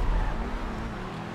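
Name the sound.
Pegassi Reaper supercar accelerating in GTA V video game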